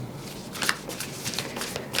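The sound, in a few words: shuffling oracle cards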